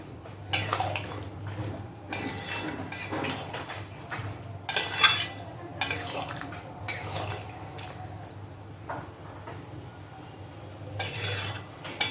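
Potatoes, fat and spices for ghugni stirred together with boiled peas in a pot, heard as bursts of a metal spoon scraping and clanking against the pot with pauses between, close and moderately loud, no talk.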